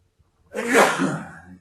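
One person sneezes once, a sudden loud burst that trails off into a breathy release after a quiet moment, close by with no other talk.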